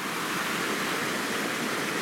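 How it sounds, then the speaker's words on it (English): A wilderness creek along the North Fork Trail rushes in a steady, broad hiss of flowing water, close and continuous with no voices. "we are back at the creek again"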